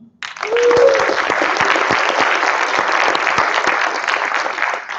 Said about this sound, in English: we want to first off with a round of more applause for Capital One.